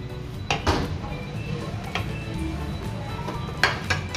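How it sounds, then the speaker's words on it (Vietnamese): Two Japanese sweet potatoes go into a steaming pot in a home kitchen, with scattered clinks and knocks of cookware against a quiet background of light handling noise. "mình sẽ cho hai củ khoai lang này vào trong nồi hấp chín"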